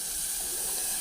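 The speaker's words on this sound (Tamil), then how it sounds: "ஒரு கப் நான் தண்ணி சேர்த்துக்கிறேன்." Water poured into onion chutney in a pressure cooker, a short continuous hissing splash, close and steady, with no talking.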